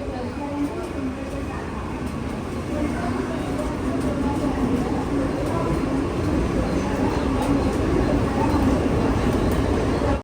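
Mumbai Monorail train running toward Mahalakshmi station, a steady close hum and rumble throughout with faint talk underneath.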